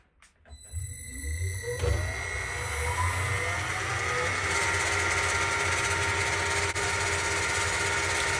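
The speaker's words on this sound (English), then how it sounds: "I'm peck drilling this pilot hole with a centre drill manually" A metal lathe spins up and runs steadily while a centre drill held in a tool-post drill chuck peck-drills a pilot hole, giving a continuous whining hum with tonal ringing over low motor rumble at moderate, even level.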